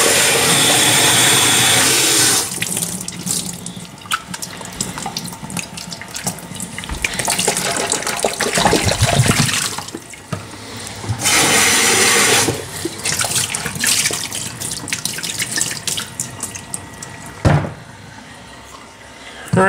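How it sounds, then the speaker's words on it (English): Running tap water splashes over crazy lace agate stones being rinsed in a sink before going back into a rock tumbler, in loud bursts broken by short pauses, with a cupboard or door knock near the end. "I'll rinse that out one more time"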